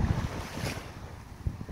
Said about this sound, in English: we're at Maho Beach, St. John